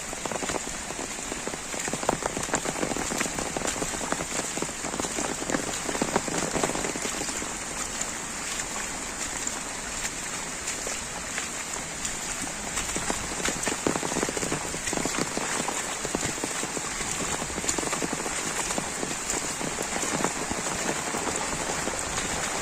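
Steady heavy rain falls on surfaces at a Camurli–Tuem river ferry crossing in Goa, a dense continuous hiss with pattering drops close by, with no voices.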